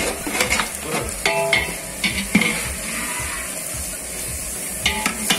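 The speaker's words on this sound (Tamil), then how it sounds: "வெங்காயம் வதங்கிடுச்சு, அப்புறம் ஊற வச்ச அரிசி பிரியாணி அரிசி போட போறோம்" Three kilos of soaked jeera samba biryani rice going into a large pot of sautéed onions, a continuous close sizzle with scraping stirs and a few metallic clinks of the ladle against the pot.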